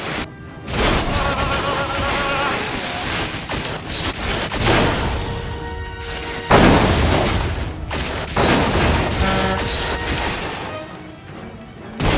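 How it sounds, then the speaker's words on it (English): A nuclear device exploding in the Destroy All Humans 2020 remake, rendered as a loud, sustained roar of booming blasts and crashing debris that rolls on in waves for the whole stretch. "The nuclear device is destroyed!"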